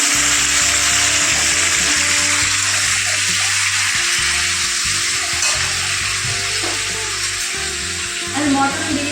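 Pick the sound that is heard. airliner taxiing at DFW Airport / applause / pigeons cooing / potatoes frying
potatoes frying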